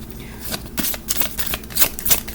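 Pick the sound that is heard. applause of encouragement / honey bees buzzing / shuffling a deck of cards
shuffling a deck of cards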